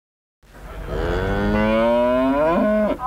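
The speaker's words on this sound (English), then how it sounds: "This is the group of sale cattle that we've gathered up to sell here now" Red Angus sale cattle moo in one long, loud, drawn-out bellow that starts abruptly and rises slightly in pitch before breaking off near the end, heard alone without speech.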